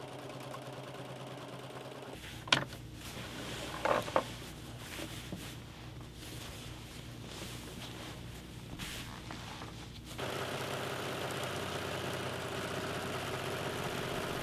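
A sewing machine stitches around the perimeter of appliqué shapes on a quilt, a steady mechanical whir running throughout with a few brief clicks and knocks, growing somewhat louder in the final seconds.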